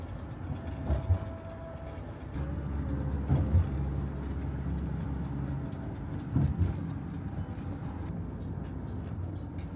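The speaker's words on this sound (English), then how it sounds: "We're about to drive over the harbour bridge." Car traffic crossing the Sydney Harbour Bridge heard from inside a vehicle, a steady low road rumble with a few louder passing swells and thumps throughout.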